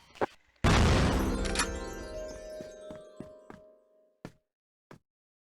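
A grenade in the video game Crossfire goes off with a sudden loud blast that rumbles and decays over a couple of seconds, followed by a few sharp metallic clanks and pops.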